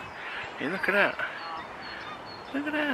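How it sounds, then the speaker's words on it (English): Ducks being fed outdoors give a few short honking, quacking calls in two brief bursts, close and moderately loud, with a person speaking briefly in between. "Our ducks are getting fed, they're happy."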